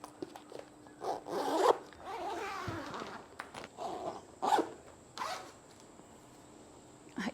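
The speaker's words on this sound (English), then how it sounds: "The zipper works like a charm." A zipper is pulled in several quick ripping strokes, close and crisp, separated by brief pauses with faint room noise between.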